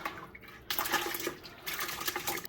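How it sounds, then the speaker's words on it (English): Tripe dropped into a pot holding five quarts of water, giving bursts of splashing and sloshing liquid with a brief pause between them, fairly quiet and close. "We're gonna go ahead and add our tripe in."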